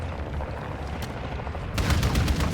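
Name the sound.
gunfire in a video game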